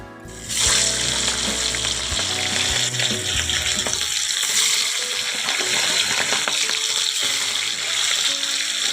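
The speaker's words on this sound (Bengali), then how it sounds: "এবারে মাছটা ভেজে নেব" Rohu fish rubbed with salt and turmeric dropped into hot oil, bursting into a loud, steady crackling sizzle that carries on throughout, with no talking.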